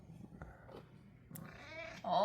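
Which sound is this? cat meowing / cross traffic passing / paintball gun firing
cat meowing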